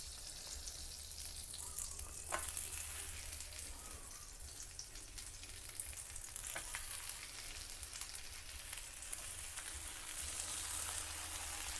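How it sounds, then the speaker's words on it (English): French toast fries in butter on a griddle, making a continuous fine crackling sizzle like light rain that stays fairly quiet and even throughout, with no talking. "Add a bit more butter to my griddle for the last couple of pieces here"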